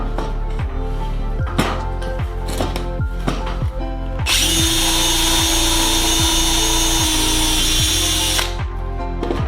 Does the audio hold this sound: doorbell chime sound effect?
no